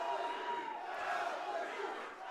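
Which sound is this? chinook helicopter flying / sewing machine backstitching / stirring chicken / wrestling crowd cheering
wrestling crowd cheering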